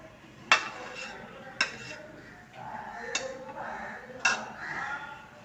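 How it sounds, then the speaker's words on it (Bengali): Onion paste is stirred into hot mustard oil in a wok, with a metal spatula knocking and scraping against the pan in four distinct sharp strokes over a low sizzle, fairly quiet and close. "পেঁয়াজ বাটাটা দিয়ে তেলের মধ্যে নাড়ছি,"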